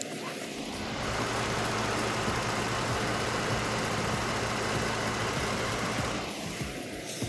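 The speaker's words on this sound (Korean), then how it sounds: "바로 영상으로 엔진 소음 한번 담아보도록 하겠습니다" A Mercedes-Benz E300 Avantgarde's 3.0-litre V6 engine idles steadily in a smooth, continuous hum, recorded up close with no voices.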